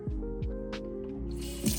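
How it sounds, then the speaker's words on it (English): Water pours into a measuring cup already holding diced-tomato liquid, a short close trickle and splash with a few drips, rising in pitch as the cup fills, with no talking. "So now I'm going to fill the rest of it up with the water"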